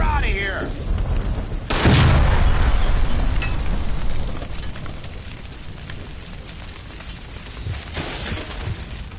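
A gas line blows in L.A. Noire, one loud booming burst with a crashing, debris-filled tail that lingers for a couple of seconds, followed by quieter rumbling and scattered clatter while characters shout nearby.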